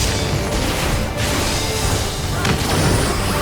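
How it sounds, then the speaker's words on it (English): An explosion in Final Fantasy XIV, a loud crashing burst over dense, continuous game sound, with a second sharp hit about two seconds later. "Yeah, explosion."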